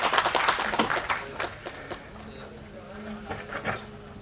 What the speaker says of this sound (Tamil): ஒரு பெரிய கைத்தட்டல் கொடுக்கலாம்.